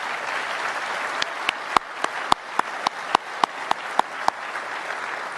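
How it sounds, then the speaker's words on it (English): Audience applause at a municipal affairs conference speech, broad steady clapping from a large crowd with a few sharp nearby claps standing out in a rhythmic run. "Let's give them a round of applause."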